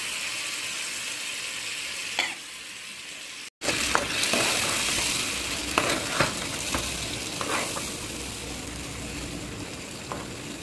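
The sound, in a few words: Wai Wai instant noodles frying in a pan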